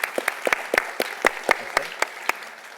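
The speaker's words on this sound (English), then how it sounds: "Let's give him a warm applause." Sparse, individual claps from a small conference audience at a business travel event, a dozen or so distinct sharp hand claps spaced irregularly, close and moderately loud, with no talking.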